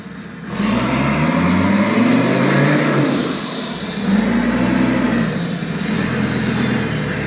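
A 1984 Mercedes diesel car with a 3-liter five-cylinder engine runs steadily and loudly up close, its rough idle swelling into a couple of throttle rises with no talk over it.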